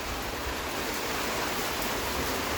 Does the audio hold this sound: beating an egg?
no